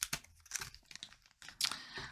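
Pack of Wizard of Oz playing cards being torn open by hand, with close, bursty crinkling and tearing of wrapper in several short rustles and a longer rip near the end, no talking.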